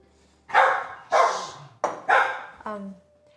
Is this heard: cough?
no